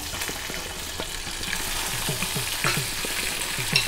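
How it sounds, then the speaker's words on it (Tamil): Okra, mustard seeds and curry leaves fry in coconut oil in a clay pot, giving a continuous close sizzle dotted with small pops and spatters, with the occasional scrape of stirring throughout. "கட்சட்டியில் தேங்காய் எண்ணெய் விட்டுருக்கேன். அது காஞ்சிடுது. கடுகு, கொஞ்சம் கறிவேப்பிலை, வெண்டைக்காய் சேர்த்துக்கிறேன்."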